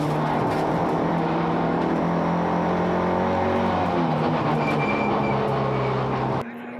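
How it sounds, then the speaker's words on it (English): Race cars in a GTC circuit race at Aldo Scribante, Port Elizabeth, roar loudly down the main straight past the pits, a sustained dense engine drone that cuts off abruptly near the end. "Down the main straight and past the pits, Smallberger maneuvered into position and then in a classic move went up the inside"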